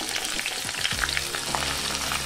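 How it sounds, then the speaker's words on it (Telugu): Capsicum pieces fry in hot oil on a stovetop, giving a continuous close sizzle with faint crackles and no voices. "ఆయిల్ కాగిన తర్వాత క్యాప్సికమ్ ముక్కలు వేసుకొని"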